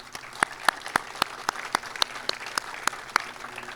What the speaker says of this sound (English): So please, can we give them a round of applause again?